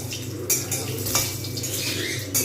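Whole cumin and dry red chilli tempering in hot oil for a bottle gourd moong dal, stirred with a metal utensil; a low sizzle broken by a few sharp clinks of spoon against pan.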